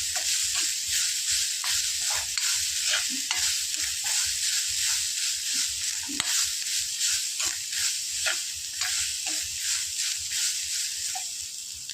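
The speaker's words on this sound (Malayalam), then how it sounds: "ചെറുതായിട്ടൊന്ന് മൂത്ത് വരെ വരെ നമ്മൾ മൂപ്പിച്ചെടുക്കാം" Ingredients for a garlic chutney roast in a pan, giving a continuous sizzling hiss broken by frequent scraping stirs and light knocks of the spoon against the pan.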